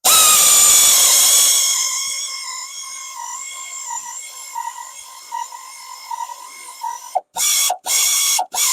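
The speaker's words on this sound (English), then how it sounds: "So it's drilling down in there." A drill bores down into a broken spark plug in a Ford engine, giving a steady, close-up tonal motor whine that fades slightly before cutting out in a few short stop-start bursts at the end.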